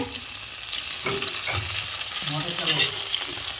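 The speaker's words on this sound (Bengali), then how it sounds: "এই যে মাছটা ভেজে নিচ্ছি" Khoka ilish fish fries in a pan with oil, a steady close sizzle and crackle with occasional scraping stirs, without talk.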